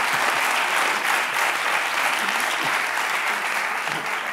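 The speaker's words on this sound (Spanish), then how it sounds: "Joder, un aplauso para Lolito," A studio audience applauds Lolito Fernández on a Spanish late-night talk show, a steady, full burst of clapping heard alone without speech.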